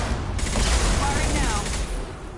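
A weapon fires in the video game Mass Effect 2, a dense, loud stretch of booming shots and blasts mixed with game sounds, with voices speaking over it.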